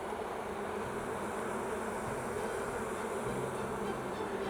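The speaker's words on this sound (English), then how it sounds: "And the bees start buzzing a little harder." A dense, steady hum of honey bees buzzing close by, continuous and unbroken throughout.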